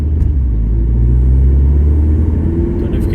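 A Mini Cooper JCW engine in sport mode gives a steady, loud, deep rumble heard from inside the small car, holding an even tone without clear revving throughout.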